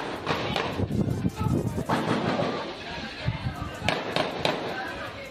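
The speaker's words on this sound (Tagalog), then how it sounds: "maririnig ang mga putok ng baril" Sharp cracking bangs of gunshots burst repeatedly inside a maximum security prison compound, New Bilibid Prison, some loud and close, others fainter, with shouting voices mixed in.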